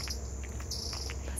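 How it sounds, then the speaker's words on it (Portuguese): Small songbird chirping in a green ecological park, brief high tweets over a steady insect and cricket hum, no talking. "Passarinho."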